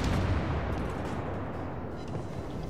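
Naval gunfire and explosions in the video game World of Warships: Legends, a dense continuous low rumble of booming shots that fills the whole moment, with no talking.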